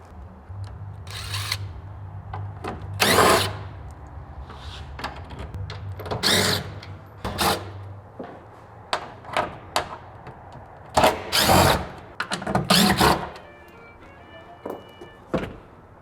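A power driver removes T30 screws from the tailgate cover of a 2022 Toyota Tundra in short whirring bursts, separated by clicks and clunks from handling the parts, close by with no talking.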